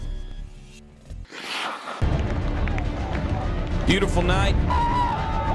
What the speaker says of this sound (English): Great crowd. The buzz around Spratt Stadium.